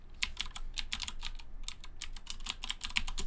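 Rapid clicking keystrokes on a computer keyboard while entering the ipconfig /all command, a close, steady burst of light taps with no talking.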